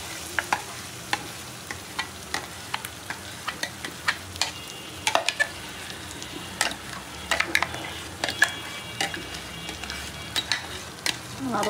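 Blended taro paste stirred into spiced masala in a pan, a soft frying hiss under a run of quick, regular spatula scrapes and taps against the pan, close and fairly even throughout.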